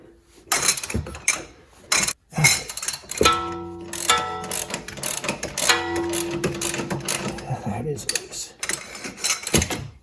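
A 3/8-inch drive ratchet works a bolt loose on the front lower control arm of a BMW E90 xDrive, giving close bursts of clicking and metallic clatter with short pauses between them.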